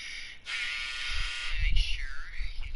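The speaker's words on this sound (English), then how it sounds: "that was the dryer that just went off" A clothes dryer's buzzer sounds a steady, moderately loud electronic buzz that holds for a few seconds over low room rumble.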